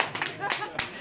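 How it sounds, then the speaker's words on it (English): A handful of people clap during an office Olympics field goal game, giving a few quick uneven bursts of hand claps, close and fairly loud, with voices mixed in. "Everybody clap."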